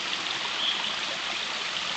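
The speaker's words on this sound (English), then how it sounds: "Clean running water." Steady running water from a stream at a campsite, a continuous broadband rush with a light trickling texture, close and even throughout with no talk.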